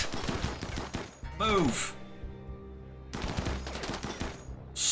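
Rapid bursts of gunfire in the colony-building game RimWorld, with dense crackling volleys before and after a brief pause and a short cry in between, loud and close, and a voice speaking briefly.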